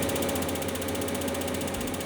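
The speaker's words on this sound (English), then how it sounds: "And the next step is the final polishing." A knife blade gets its final polishing on a machine in a knife shop, producing a continuous dense whirring and rattling drone that stays steady and close throughout.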